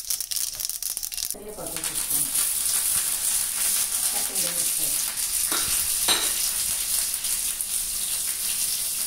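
Tempering of ginger paste and green chillies crackles in hot oil in a pan for curd vadas. A loud, continuous sizzle with stirring scrapes runs from start to end, beginning with a sharp burst as it hits the oil.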